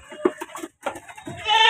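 Goats bleat repeatedly at a busy goat market in Raja Bazar, Kolkata: a string of short, close, uneven cries with a brief pause partway through, and a rising, more sustained bleat at the end.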